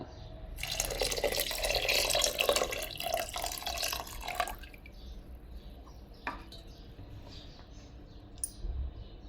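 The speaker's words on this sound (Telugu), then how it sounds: "పాలు పోసాను కదా పాలు పోసిన తర్వాత కొంచెం ఉప్పు కూడా వేసేసుకోవాలి" Milk poured into a cooking pot for pongal, a steady splashing stream for about four seconds that then stops, followed by quieter kitchen sounds and a few faint clinks.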